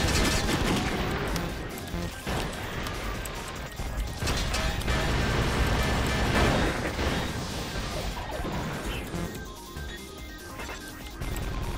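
Missile fire from the mech action game Baldr Force, with dense, continuous blasts and crashing explosions over a loud, busy game soundtrack, with no pauses.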